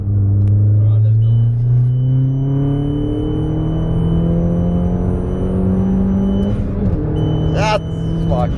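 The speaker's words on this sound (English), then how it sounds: "Do a fourth gear pull." A 2013 Mini Cooper S R56 rated at 177 kW pulls hard in fourth gear. Its engine note climbs steadily and loudly for several seconds, and a voice briefly cuts in near the end.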